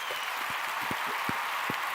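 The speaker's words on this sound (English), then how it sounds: "he just deserves a round of applause" A studio audience gives a round of applause for Nicholas on a live television show, a steady, broad wash of clapping that holds throughout the short stretch with no voices over it.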